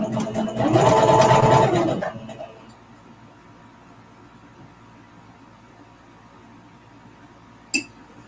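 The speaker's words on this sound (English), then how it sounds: "now I'm going to do the next row and start sewing those together" A home sewing machine stitches fabric squares together, a loud steady whirring run for about two seconds before it stops, leaving a quiet room and one short knock near the end.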